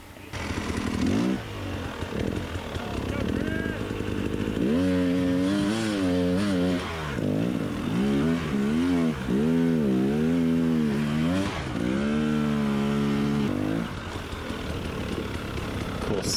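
An enduro dirt bike in a hard enduro race claws up loose, tire-spinning terrain. Its engine revs hard and repeatedly rises and falls in pitch in bursts, loud and close throughout.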